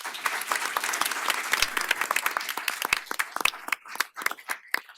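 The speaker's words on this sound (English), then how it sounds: "If we could get a round of applause for David." Audience applause for David at a Boulder County community event on electrifying everything, dense clapping that thins out toward the end.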